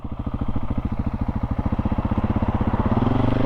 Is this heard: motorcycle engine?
yes